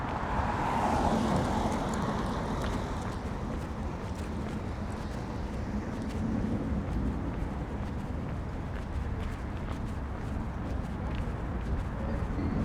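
A vehicle passes on a suburban road near a Scarborough housing complex in Toronto, heard as a steady broadband roadway rumble that swells and fades over several seconds, with faint birds and no talking.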